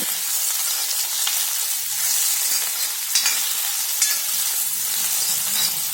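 Coriander and tomatoes sautéed for milagai killi sambar, a steady close sizzle with brisk stirring and a few light utensil clicks, no voices.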